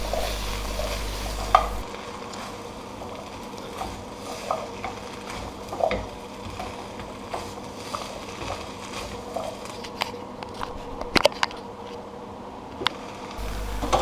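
Vegetables, including green pepper, being mixed and stirred in a pan, a soft steady sizzle broken by scattered light scrapes and taps of the spoon, moderately quiet with no voices.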